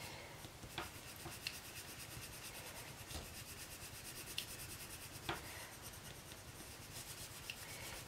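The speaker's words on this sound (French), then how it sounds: "je vais repasser un peu sur mes couleurs plus foncées pour lisser un peu le résultat" Faber-Castell Polychromos colored pencil worked over paper, a steady close scratchy rubbing that runs without pause, with a few faint ticks of the lead catching. No one talks.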